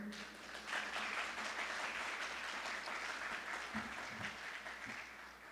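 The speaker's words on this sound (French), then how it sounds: "Des applaudissements pour ce beau monde," An audience at a televised school quiz show applauds steadily for several seconds, a dense, even wash of clapping that holds level and begins to fade at the end.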